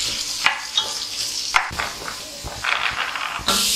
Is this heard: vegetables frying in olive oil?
yes